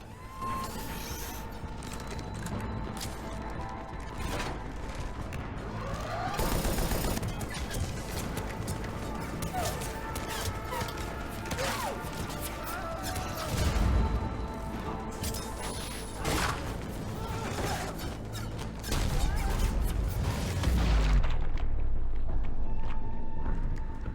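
Gunfire and crashing combat effects from the video game Mass Effect's Omega DLC, a steady loud barrage of shots and impacts running throughout with dense mechanical clatter and no pauses.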